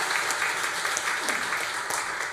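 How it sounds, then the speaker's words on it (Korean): A church congregation at a Sunday service claps to welcome a young music-education graduate, a steady, moderately loud patter of many hands with no voices over it. "박수 한번 해주시기 바랍니다"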